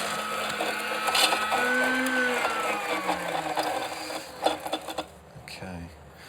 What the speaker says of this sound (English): and that'll shave the ice